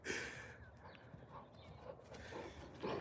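A dog running during a fetch game, its rapid paw falls thumping in a quick galloping rhythm like a horse, fairly faint and close with a few breathy bursts and no talk.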